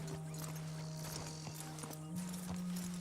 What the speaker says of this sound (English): you gotta pat the horse, and then we're gonna lead the horse